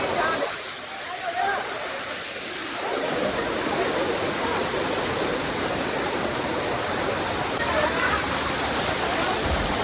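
Roaring waterfall near Rishikesh, a dense, steady rush of falling water close by that fills the whole scene without pause, with a voice briefly audible under it near the start.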